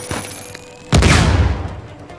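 A grenade bursts in Uncharted 4, a sudden loud boom that rolls into a long rumbling, crackling tail, with faint gunfire and game sounds before it and no talk.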